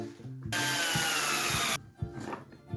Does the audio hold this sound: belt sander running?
yes